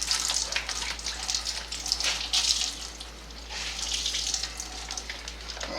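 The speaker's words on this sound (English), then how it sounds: "let it hang out like this, and we're just going to squeeze everything out." Water squeezed out of a shirt in a Laundreez travel washer, close splashing and trickling that swells and eases in waves over a steady low electrical hum.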